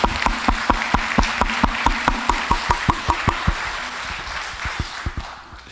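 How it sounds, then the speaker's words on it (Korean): A church congregation at a Korean New Year evening revival service claps in a steady, even rhythm of sharp, close beats that gradually trail off into a softer murmur. "그 하나님께 영광의 박수를 드립니다."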